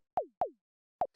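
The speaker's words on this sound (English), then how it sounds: "It's just a really short sine wave." A very short sine-wave zap with a falling pitch envelope, synthesized in Ableton Operator for minimal house, struck three times as clean, close, downward-swooping blips with a gap before the last one.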